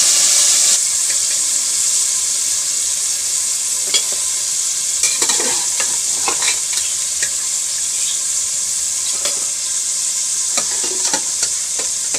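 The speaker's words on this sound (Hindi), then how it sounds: "अब इसमें पाए शामिल करते हैं।" Goat trotters tossed into fried masala for siri paye crackle and sizzle in a pan, with steady frying hiss throughout and repeated scraping stirs up close; no talking.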